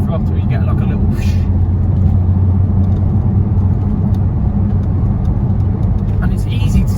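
Porsche 997 Turbo engine rumbling steadily at close range from inside the car, with a faint turbo whoosh as the throttle is lifted around 3,000 rpm, under ongoing talk.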